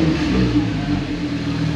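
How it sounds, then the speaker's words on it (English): A Porsche turbo engine revving at a track day, a steady, loud, low engine drone with a slight rise and fall that sounds fairly close. "Oh, that beautiful sound of a Porsche turbo."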